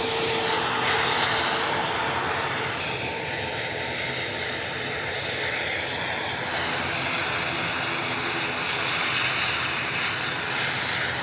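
A jet airliner in Delta livery departs Edinburgh airport for Marseille, its engines a loud, steady broadband roar that swells slightly near the end and holds throughout without any talk.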